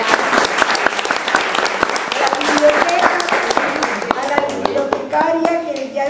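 An audience at a talk applauds with dense, continuous clapping, close and steady throughout, while voices murmur and speak underneath.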